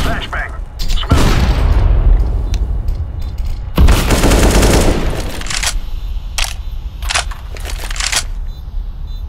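A grenade explosion in the video game CS:GO lands as a loud, broad boom, followed by more sharp bursts and crackling gunfire, with a voice talking over parts of it.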